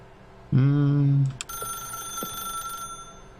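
A telephone in The Stanley Parable: Ultra Deluxe gives a loud burst of buzzing ring for under a second, then a high sustained electronic tone follows over a soft background.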